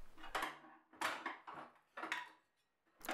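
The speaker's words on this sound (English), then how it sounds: "then I pop out the throat plate" Throat plate being removed from a Metabo TS 216 table saw, a few light metallic clinks and rattles in quick succession, close and quiet, ending in a short pause and a final clack.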